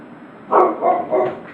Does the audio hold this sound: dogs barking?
yes